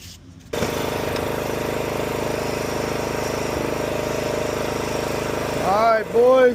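A cheap used riding lawn mower engine starts abruptly and runs at a steady loud drone, then revs up near the end, close by with no voices over it.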